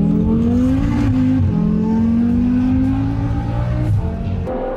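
Audi RS Q3, a tuned five-cylinder car, accelerating hard in a drag race run, loud sustained engine note rising steadily in pitch with brief gear-shift dips, close and continuous throughout.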